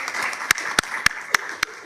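A few sharp, sparse claps ring out at a school board meeting, about five distinct hand claps spaced roughly a quarter second apart over a faint background murmur.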